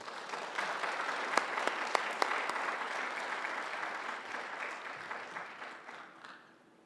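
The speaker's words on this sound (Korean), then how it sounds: "박수로 한번 우리 환영하겠습니다." A church congregation at a Holy Week special early-morning service applauds to welcome the pastor: dense, steady clapping from a room full of people, with a few sharp claps standing out early on, then thinning and fading at the end.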